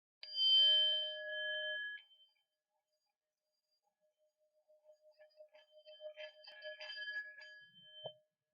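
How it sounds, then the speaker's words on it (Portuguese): A Tibetan singing bowl, used as a tool in Umbanda practice, is struck with its small stick. It gives a bright ringing tone that fades over about two seconds, then a fainter, shimmering ring builds and wavers. "para que serve esse sino tibetano?"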